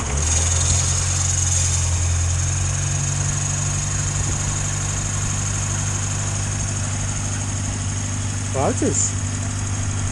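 A Morris Minor car engine idles steadily after an oil change, its timing chain slightly rattly, giving a continuous low, even hum at close range while someone briefly speaks.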